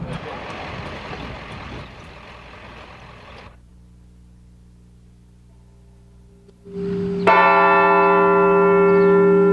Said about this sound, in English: Some churches rang bells in remembrance.